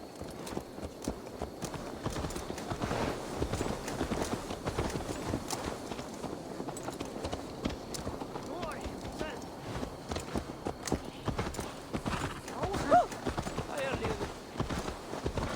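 A horse in the video game Assassin's Creed Valhalla walks with steady, rhythmic hoof clip-clops, quiet and continuous throughout, mixed with soft game ambience and low voices.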